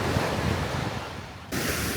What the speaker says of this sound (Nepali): यो चाहिँ सिङ्गापुरको इस्ट कोस्ट पार्कको समुद्र हो